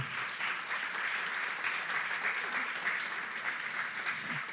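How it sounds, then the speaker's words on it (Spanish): Steady applause from a church congregation, sustained clapping that fills the space for several seconds without a break. "Dar un aplauso a Jesús una vez más hoy."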